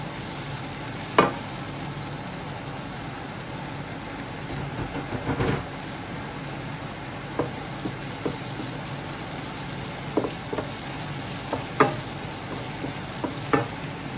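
Chopped onions sizzling in a hot pan for palabok, a steady frying hiss with scattered scrapes and clicks as a spoon stirs them.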